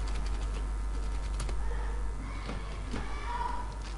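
Typing on a computer keyboard, a run of quick close key clicks at an uneven pace over a low background hum, with no talk.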